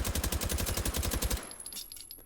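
Rapid automatic gunfire from a wooden-stocked gun in the video game Hot Dogs Horseshoes & Hand Grenades, a loud, close burst of evenly spaced shots that stops abruptly, followed by faint ringing.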